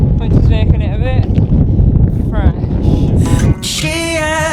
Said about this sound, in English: It's just a bit windy out